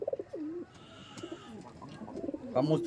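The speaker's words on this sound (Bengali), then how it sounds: "দেখুন হাতেই ডাক দিয়ে দিল" A male pigeon held in the hand coos in low, rolling calls, close and clear, with a short burst of bird sound near the end.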